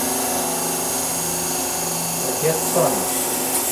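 Wood lathe spinning at 3,000 RPM while a three-bead turning tool cuts the workpiece, a steady whine with shifting tonal scrapes as the tool engages, under a man's speech.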